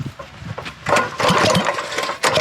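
A small engine on a turbo Predator go-kart build is cranked over and sputters toward starting cold, with irregular bursts and choppy revs, close and loud, alone.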